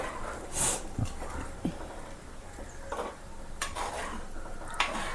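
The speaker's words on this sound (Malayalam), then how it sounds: "ഒന്ന് പതുക്കെ ഇളക്കി കൊടുക്കും." Fish curry is stirred gently in a pot, with soft scrapes and a few light clinks of a utensil against the pot over a faint, steady background.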